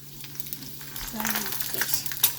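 An egg quesadilla fries in oil in a pan with a steady, close sizzle that builds slightly, with a few soft stirring or scraping touches and no talking.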